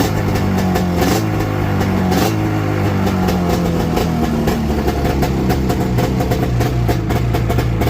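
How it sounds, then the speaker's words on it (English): The 500 engine of an Arctic Cat Sabercat snowmobile runs steadily up close, its rough idle rising and falling slightly in pitch with no voices. "The engine sounds healthy."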